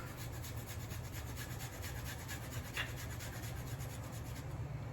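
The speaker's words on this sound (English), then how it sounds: "I'm gonna grate some fresh ginger" Fresh ginger is rubbed over a grater in quick, even rasping strokes, faint and close in a quiet kitchen.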